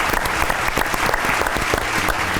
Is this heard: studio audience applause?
yes